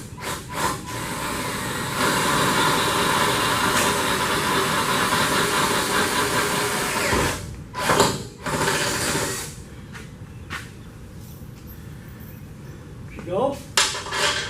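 A half-inch step bit drills through metal on a 1965 GMC pickup during a coil spring and truck arm conversion, a sustained whirring grind for several seconds that breaks into shorter bursts, with voices talking nearby.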